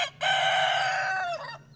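A rooster gives one loud, close crow with clucking chickens around it at a backyard chicken coop. No voices are heard.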